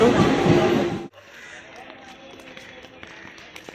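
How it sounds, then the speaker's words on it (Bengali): A train arriving at a station platform, opening with about a second of loud rushing roar, then cutting to quieter rattling and clattering ambience. "স্টেশনে এসে এখন ট্রেনের অপেক্ষা নলপুর যাব তো ট্রেন এসে গেছে"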